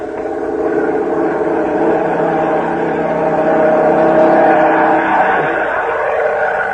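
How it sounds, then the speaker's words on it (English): A German military airplane engine drones steadily in a 1945 radio drama sound effect, a broad continuous roar that swells slightly as it approaches, heard alone without voices. "Listen. German plane."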